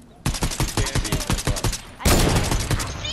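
Video game gunfire in a shooter match: rapid bursts of shots in a steady rhythm, loud and close, ending in a heavier sustained volley, with no talk over it.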